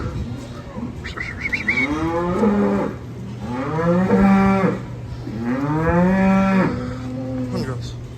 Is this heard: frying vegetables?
no